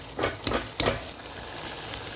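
A spoon mashes cooked pumpkin in a pan with a few soft, close scraping thuds early on, then a steady low sizzle of cooking continues alone.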